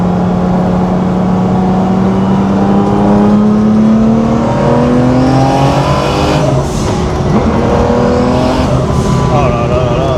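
A Porsche engine, loud and close, revs and accelerates hard with a long rising pitch, dips briefly, then climbs again through further gear pulls.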